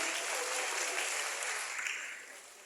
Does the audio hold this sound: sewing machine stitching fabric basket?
no